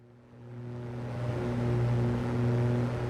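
A rough, faulty Aerostar 600 aircraft engine drones steadily in Microsoft Flight Simulator 2024, its low throbbing hum swelling louder after the first half-second and holding strong, with no talking.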